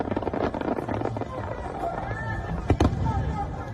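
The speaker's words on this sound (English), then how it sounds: "They were supposed to be enjoying these fireworks." A fireworks display at Shanghai Disneyland crackles and pops over a murmuring crowd, with a louder sharp burst near the end and chatter running underneath throughout.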